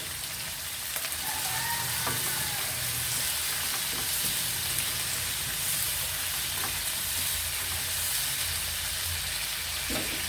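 Slices frying in a hot pan give a steady, close sizzle with crackling and occasional soft pops, continuous and unbroken by talk.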